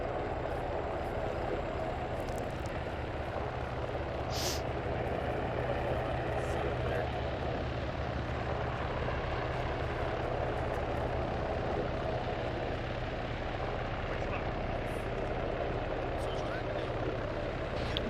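Helicopters flying in during ArmA 3 gameplay, a steady low rotor and engine drone that stays constant throughout, with voices talking over it.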